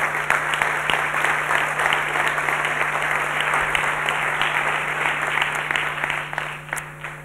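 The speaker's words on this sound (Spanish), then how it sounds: "un fuerte aplauso para todos vosotros" An audience gives sustained applause at the presentation of a report on school radio in Spain, a dense steady clapping that fills the room and tapers off near the end.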